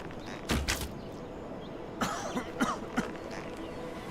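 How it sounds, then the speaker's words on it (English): A person coughs in a zombie survival game: a few faint, muffled coughs and throat sounds, one burst early and a short cluster later, over a low steady background hum. "Shit, you heard my fucking cough."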